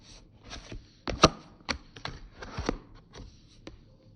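Tarot cards being shuffled by hand in quick, irregular bursts of papery slaps and riffles, close and fairly soft, with a few sharper snaps partway through and no one talking.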